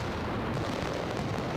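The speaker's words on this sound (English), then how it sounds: "Valencia launches one of Europe's greatest aerial firework barrages" An aerial firework barrage in Valencia during Las Fallas' Night of Fire roars as a dense, continuous wall of overlapping explosions, loud and sustained without a break.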